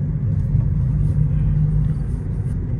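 A 4x4 car off-roading through mud on a rainy day, sinking into the muck: a loud, steady low engine rumble close by, droning continuously under faint higher splashy noise.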